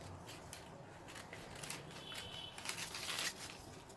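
Scissors snip through a paper sewing pattern for a bustier with a Queen Anne neckline, giving quiet, close crisp cuts and rustling paper in an uneven rhythm.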